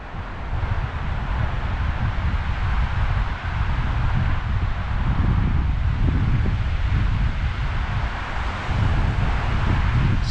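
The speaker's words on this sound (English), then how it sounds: "It's just one windy place up here." Strong wind roars steadily across the microphone on the Mogollon Rim, a loud continuous rumble with gusty buffeting and no voices throughout.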